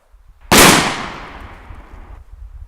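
A single sharp shotgun blast from a gun with an improved cylinder choke, fired at a pattern target 20 yards away outdoors, with a loud crack that trails off in a long decaying echo.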